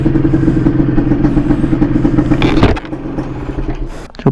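Yamaha 125ZR two-stroke motorcycle engine recorded onboard, a loud steady engine drone with dense harmonics that drops off sharply near the end to a lower, rougher running sound, no talk over it.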